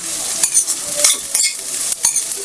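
Vegetables deep-fry in hot oil, a loud close sizzle broken by repeated stirring and scraping strokes in an irregular rhythm, with no talk.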